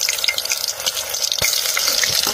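Onions dropped into hot oil in a pan, cooking wild jungle fowl on a hillside: a steady broad sizzle and crackle running continuously at close range, with a brief stir or clatter partway through.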